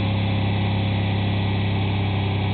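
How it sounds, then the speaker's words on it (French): A truck engine fed by a hydrogen generator runs with a steady, close, low droning rumble and no pause. "Le moteur monte parce qu'il avale justement l'hydrogène qu'on lui donne."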